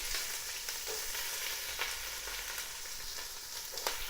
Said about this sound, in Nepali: I'm gonna put some oil. Okay guys, the first things I'm gonna put the onion.